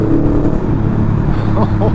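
A Vance & Hines aftermarket exhaust on a Honda Rebel 500 motorcycle gives a steady, low, close burble. The rumble continues throughout with no clear revving.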